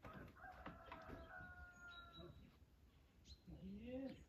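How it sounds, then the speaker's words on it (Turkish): Chickens shuffle and call inside a coop in the early morning, with clucking and a rooster's drawn-out crowing near and fairly faint, while people talk quietly in the background. "Tavuklar tepinmeye başladı kümeste."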